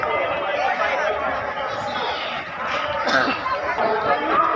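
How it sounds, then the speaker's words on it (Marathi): Dense crowd chatter at Deekshabhoomi in Nagpur on Dhammachakra Pravartan Day, near a book stall: many overlapping voices forming a continuous, loud wash of talk with no pauses. "ही गर्दी येते पुस्तकं खरेदी करण्यासाठी"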